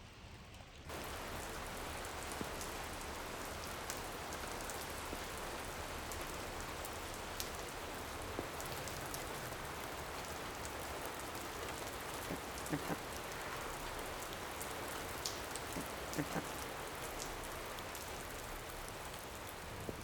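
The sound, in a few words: heavy rain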